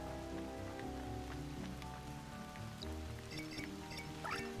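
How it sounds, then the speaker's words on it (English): Rain falls steadily in the video game Aniimo, a soft continuous patter with scattered droplet ticks over a low game music bed, with no talking. "I love that it's raining."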